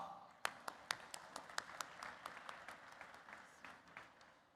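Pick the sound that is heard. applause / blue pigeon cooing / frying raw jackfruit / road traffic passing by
applause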